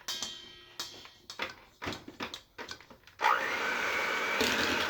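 Butter and white granulated sugar are mixed for chocolate chip cookie dough: a series of uneven scraping, knocking strokes close by, giving way to a steady loud whirring drone like an electric mixer running.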